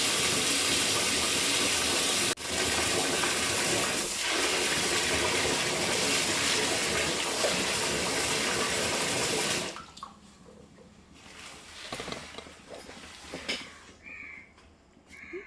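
Tap water gushes steadily into a pot while rice is washed, a loud continuous rush that stops partway through and gives way to quieter sloshing and clinks.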